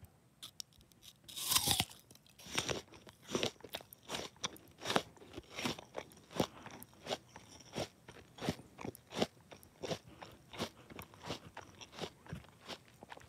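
Crunchy chewing of an apple close to the microphone, a sharp bite followed by a long run of steady, rhythmic crunches with no talking.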